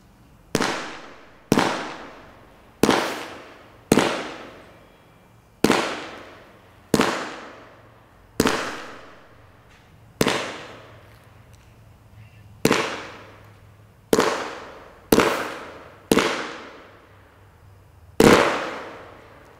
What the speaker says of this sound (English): Item number two on our shoot list tonight is an Aerial Day Smoke. It's from Black Cat. It's Magic Smoke. It's a 16 shot.